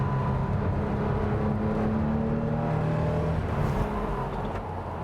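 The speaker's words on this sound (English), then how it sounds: "Going through the gears, wheeling and towing, rev matching." A Porsche 1967 911R tribute engine revving hard as the driver rows through second and third gears with rev matching on a rough trail, a loud, continuous, close-up drone rising and falling with each shift.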